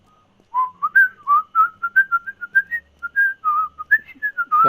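A character in the video game Beyond Two Souls whistles a quick, bright tune of short melodic notes, clear and close, with no talk over it.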